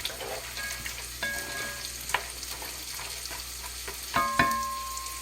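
A vegetable gravy with black-eyed peas being stirred in a sizzling pan, with soft scraping strokes and light clinks of the spoon over a steady, quiet frying hiss.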